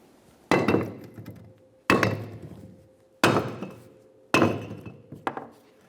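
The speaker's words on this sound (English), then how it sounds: "We'll use a rubber mallet to separate these two parts by gently tapping on the braking surface of the brake rotor." Rubber mallet gently tapping the braking surface of a brake rotor on a 1994-1997 Honda Accord, four separate dull knocks with a faint metallic ring, evenly spaced and close, the last followed by a few small clinks.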